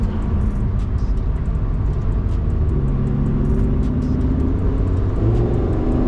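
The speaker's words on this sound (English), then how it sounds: "that's the joy again of a naturally aspirated engine. You can just modulate the power as you want it." A Lamborghini Huracan Tecnica's naturally aspirated engine drones steadily and loudly under sustained throttle, holding an even, continuous roar with slight pitch shifts and no talking.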